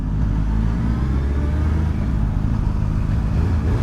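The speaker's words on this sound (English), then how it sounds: "I'm gonna rev it a little bit just so you can hear it" A Suzuki Hayabusa motorcycle engine drones loud and close throughout, revved steadily with a deep continuous rumble and no voices.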